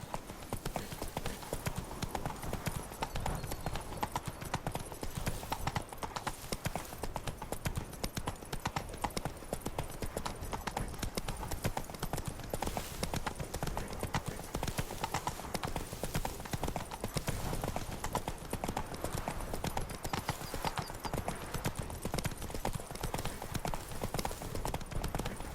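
Horse hooves galloping in The Witcher 3 video game, a fast continuous clip-clop rhythm that runs steadily throughout at a moderate, even level with no other sounds standing out.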